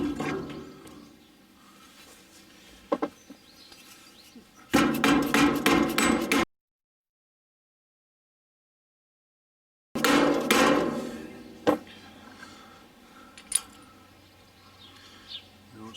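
Metal hammering as a bearing race is driven onto a trailer wheel hub, two bursts of rapid loud strikes separated by a silent gap, with a few isolated knocks afterward.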